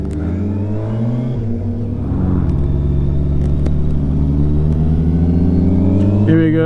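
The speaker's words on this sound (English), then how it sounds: "Andy out on his ZH2, he's got his scorpion cannon, so it should turn nice and loud" Kawasaki ZH2 motorcycle fitted with a Scorpion exhaust on a country road, its engine droning steadily and then rising as it pulls away and revs harder, loud and fairly close throughout.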